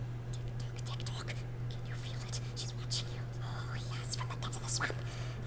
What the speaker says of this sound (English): I literally just would whisper aggressively into the mic, and then I pitched it up, and then I added a bunch of echoes and reverbs.